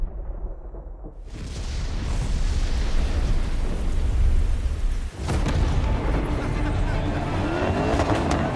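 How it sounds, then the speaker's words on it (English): A thunderstorm with rain roars during a storm race in the video game The Crew Motorfest, a dense, loud, continuous rush with a sudden burst of thunder near the end and no talk. "braving a storm in it is something else"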